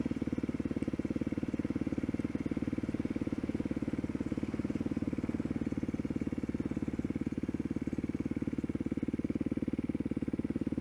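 Motorcycle engine running in the wrong gear, a loud continuous mid-pitched drone with a rapid, even pulsing throb that holds steady throughout.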